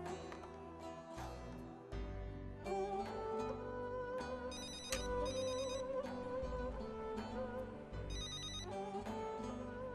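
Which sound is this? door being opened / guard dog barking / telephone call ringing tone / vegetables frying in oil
telephone call ringing tone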